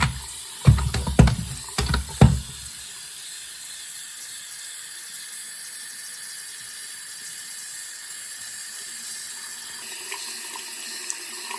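Tap water running into a sink for the final wash of developed black-and-white film, a few knocks and handling clunks at first, then a steady, even rush of flowing water continuing alone.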